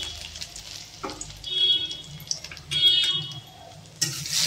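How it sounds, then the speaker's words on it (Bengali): Cumin seeds, dried red chili and ginger-garlic paste hitting hot oil in a pan, giving a close, steady frying sizzle with brief bursts of crackle as each ingredient goes in, and no talking. "তেল গরম হয়ে গেছে, জিরে দিয়ে দেবো। শুকনো লঙ্কা দিয়ে দেবো। আদা রসুনটা দিয়ে দেবো।"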